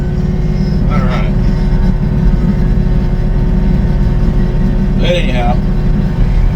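Steady low engine drone of an RK37HC tractor fills the clip, heard from inside its cab while moving snow, with two brief bursts of speech over it.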